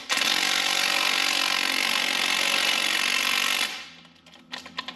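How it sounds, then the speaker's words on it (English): A small impact wrench runs a hub bolt into the front hub of a Chevy Silverado 4WD, giving a loud, continuous close-up buzzing hammer for several seconds. It then stops abruptly, followed by a few faint clinks. "I will use my baby impact to drive it all the way in"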